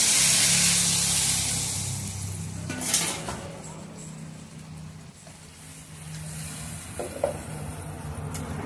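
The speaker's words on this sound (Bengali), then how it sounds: "এখন আমি অল্প করে জল দিয়ে দেবো।" Water goes into a hot frying pan of muri ghonto and sizzles loudly at first, a hissing burst that settles into a softer simmer with a few metal utensil clinks.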